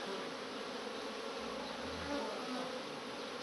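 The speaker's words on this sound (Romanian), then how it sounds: "Ia uitați zumzăit aici." Bees buzz at a beehive in December, a dense continuous hum of many insects, steady and fairly close throughout with no talk.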